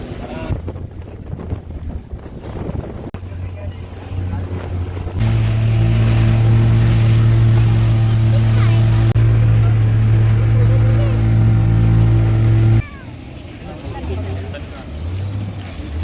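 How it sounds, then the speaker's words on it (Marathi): A passenger ferry crossing the sea from a jetty to Ross Island in the Andamans: its engine settles into a loud, steady droning hum for several seconds, with wind buffeting the microphone before and after. "फेरी स्टार्ट होईल."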